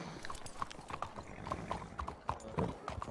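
Horse hooves clip-clopping in Red Dead Redemption 2, a steady, uneven trot, several hoofbeats per second, fairly close with faint background noise.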